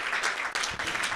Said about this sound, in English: give me a very warm round of applause